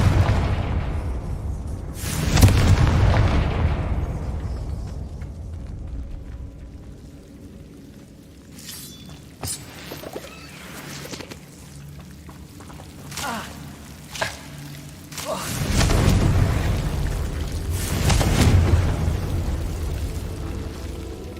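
The Confringo spell goes off in Hogwarts Legacy, giving deep booming blasts. Two heavy bursts land a few seconds apart, then a quieter stretch of scattered pops follows, and a second pair of loud explosions closes the sequence.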